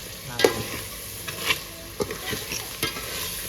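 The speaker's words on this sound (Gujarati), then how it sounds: "હવે આપણે આને છે ને ઘડી તેલમાં ચડવા દેવાનું છે." Crab curry cooks in hot oil, a moderate sizzling hiss punctuated by several distinct stirring clanks and scrapes spaced about half a second to a second apart, close by with no talk.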